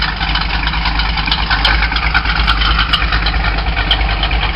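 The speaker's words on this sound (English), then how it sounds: "you can hear the exhaust" An old stock car idles with a steady, loud, low rumbling exhaust note, close and continuous with slight pulsing, alone without talk.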